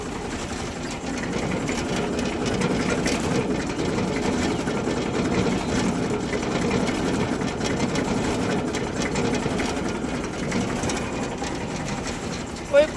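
A 1995 tractor idles with a steady, low mechanical rumble and rhythmic chugging, its hydraulics in operation, the engine drone continuous and close at moderate volume, ending with a brief sharp knock.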